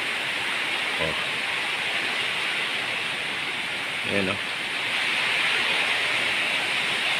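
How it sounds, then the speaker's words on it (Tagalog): Heavy typhoon rain from Typhoon Kristine pours steadily in hilly Bocaue, Bulacan, a dense continuous hiss throughout, with a man's brief exclamations heard over the downpour. "Oh, grabe lakas ng ulan."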